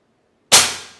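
A single sharp, loud test shot from an FX Crown PCP air rifle, a sudden crack that decays quickly after a brief moment of quiet.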